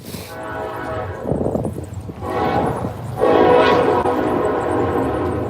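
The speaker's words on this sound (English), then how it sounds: "Another train." A train rumbles past with rattling cars in Ironton, Ohio, and its horn sounds in long blasts, growing louder toward the end.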